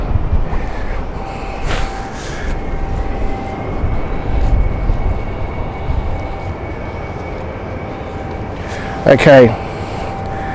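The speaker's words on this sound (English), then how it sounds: "Berlin flight is now moving." A Luxair Berlin flight taxis at London City Airport, its engines a distant, steady low rumble under a close voice talking throughout.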